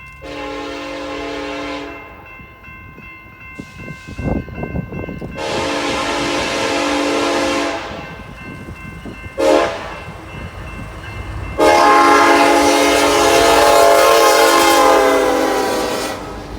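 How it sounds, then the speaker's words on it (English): Loaded coal train from Rawhide Mine, Wyoming, led by a pair of SD70ACE locomotives, rolls into a Fort Worth suburb, sounding a loud multi-tone horn in several long blasts, with rumbling engines and rail noise between them. "we find a loaded coal train from Rawhide Mine, Wyoming, cruising into town with a pair of SD-70 ACEs on point"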